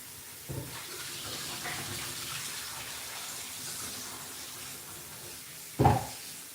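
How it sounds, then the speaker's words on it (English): Photographic film being rinsed under running water before developing, a steady soft rush of flowing water with a thud near the start and a louder knock or splash near the end. "I have to rinse the film quite well before I put it in the developer."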